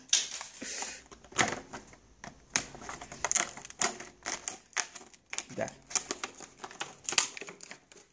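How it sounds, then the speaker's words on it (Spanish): Kitchen scissors cut open the cardboard box holding a mountain bike rear derailleur, a string of crisp snips and crunching cardboard sounds at an uneven pace, close by. "Ayudaremos de un útil de cocina como las tijeras."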